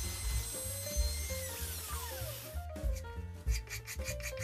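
Rhythmic rubbing and rasping strokes of sanding a wood veneer edge on a small cube subwoofer cabinet, close up and fairly quiet, with a tonal whine partway through.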